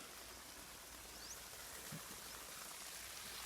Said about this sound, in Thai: อันนี้น้ำไหลแรงนะครับ ผมเต็มท่อเลย นะครับสปีดแรงมากนะครับ